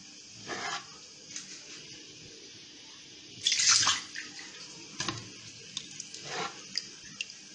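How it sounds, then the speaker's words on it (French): Water poured out of a cooking pot in a home kitchen, with short quiet splashing pours and one louder burst of running water amid soft clinks, no talking. "Je vais enlever un peu d'eau."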